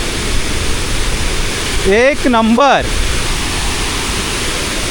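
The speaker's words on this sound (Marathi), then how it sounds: "खूप मोठा आणि रौद्र असा हा धबधबा आहे" The Ukshi Ranpat waterfall roars up close in monsoon rain, a loud, steady, unbroken rush of falling water, with a voice briefly exclaiming over it midway.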